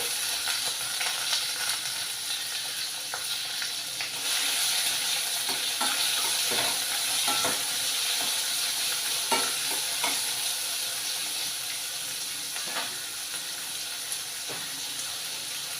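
Chopped onions frying in a pan with curry leaves, a dense continuous sizzle with scattered stirring scrapes and taps throughout, close and steady, no voices.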